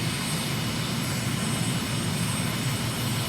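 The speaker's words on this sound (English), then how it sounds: "So this aircraft is quite nippy, it's fast." Steady broadband drone of a fast, nippy light aircraft engine in flight over Luanda, Angola, in Microsoft Flight Simulator, continuous and even with a strong low rumble and no voices.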